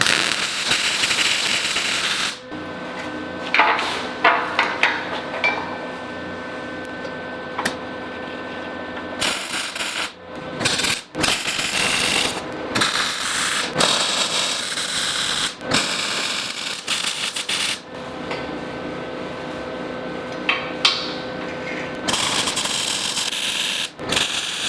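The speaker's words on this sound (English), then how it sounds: "I'm gonna go ahead and production weld all that stuff, at least a single pass" Welding a steel boat trailer frame, with long stretches of steady crackling and sizzling arc broken by short gaps between passes, close and continuous over the whole stretch.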